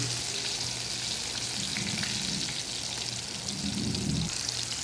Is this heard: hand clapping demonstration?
no